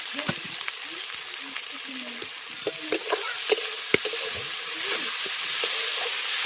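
Fish head and banana flower stir-frying in hot oil with chilli powder, a loud, dense sizzle under scattered spatula scrapes and stirring knocks, close by, with faint talk mixed in.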